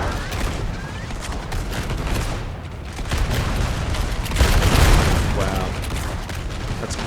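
Musket volleys crackle continuously in a Napoleon: Total War battle, dense overlapping rifle fire with booming swells, loud and sustained throughout.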